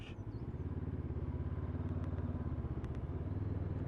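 A 2019 Honda CB500X being ridden, its slipper clutch working as it slows: a steady, close, throbbing twin-cylinder engine note with fast pulsing, wind rush throughout and a few light clicks.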